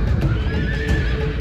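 Horses neigh amid battle ambience in the Rome Total War video game, a dense steady game soundscape with a faint whinny carried over low rumbling.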